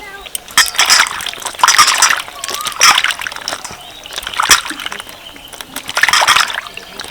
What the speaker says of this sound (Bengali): সবগুলো ডাঁটা কেটে নিয়েছি এবার জলে ভালো করে ধুয়ে নেব